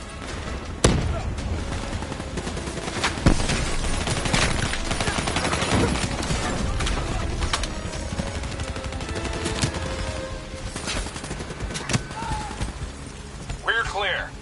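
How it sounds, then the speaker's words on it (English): Turret gunfire in the Black Ops 3 video game: loud, sustained bursts of rapid automatic fire with sharp individual cracks, mixed with mechanical clatter and battle noise. "That turret's got us pinned."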